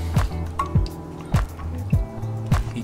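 EcoSolve paint thinner drips at an even pace, five distinct wet plops about half a second apart, close and fairly clear with no talk.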